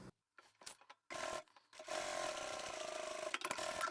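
Sewing machine stitching a zippered pouch lining closed: a few short start-stop stitches, then a steady close mechanical whir for the final two seconds.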